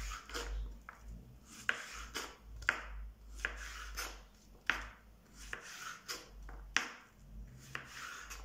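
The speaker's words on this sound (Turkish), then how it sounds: "Kabaklarımı bu şekilde bakın ince ince doğruyorum." A knife thinly slices zucchini on a board, giving a steady run of roughly a dozen crisp, close chopping taps at an even rhythm, fairly quiet and without talk.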